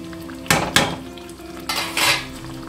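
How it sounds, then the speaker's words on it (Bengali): Spice paste frying with added water in a pan for a homemade chicken curry, with a few sharp scrapes and clinks of a spoon stirring against the metal pan over a soft sizzle. "এখন আর একটু ভালো মতন কষিয়ে নিতে হবে"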